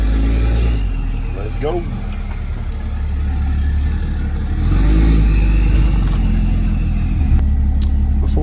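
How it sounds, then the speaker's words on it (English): A car engine rumbles steadily nearby, rising as a vehicle approaches and goes past, with a brief spoken remark over the noise. "Got a car coming."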